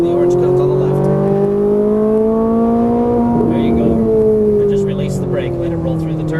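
A Ferrari 458 Italia pulls hard on a racetrack, its engine note climbing steadily through the revs, loud and close, with a brief dip mid-pull before it rises again.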